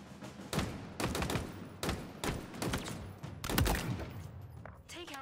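Bursts of gunfire from target shooting in the Halo Infinite game, several sharp volleys spaced about a second apart, loud and close with ringing tails between shots.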